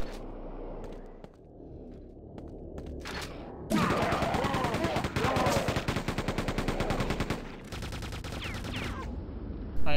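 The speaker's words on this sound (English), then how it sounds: "That is another grenade launcher." Grenade launcher firing in Quake II, a rapid run of loud, punchy shots packed into a few seconds, with quieter game noise before and after.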